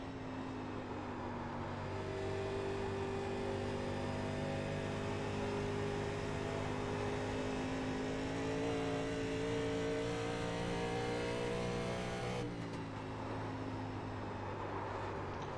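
A race car driven hard around the Roval on old tires with no downforce, its engine droning loudly and continuously from inside the car, rising and settling through the gears over a long sustained pull.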